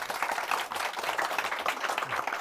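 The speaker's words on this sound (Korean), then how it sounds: "오늘 수고하신 세 분의 MC분들 박수 드리겠습니다" An audience at a Korean book forum meeting with an author claps for the three MCs, a steady, fairly faint patter of many hands with no talking over it.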